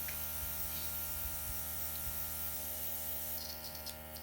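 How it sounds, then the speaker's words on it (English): Continuous fine hissing spray from an airbrush spraying out cleaning solution over a steady mechanical hum, fairly quiet, with a few faint clicks. "And then you'll simply spray it out onto a napkin or right into your sink"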